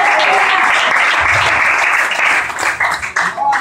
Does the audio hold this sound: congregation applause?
yes